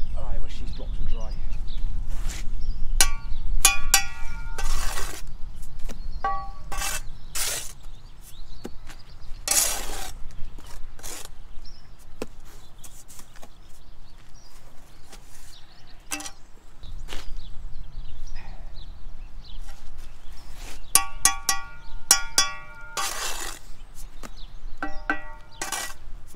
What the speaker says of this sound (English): We try and stack the blocks as well.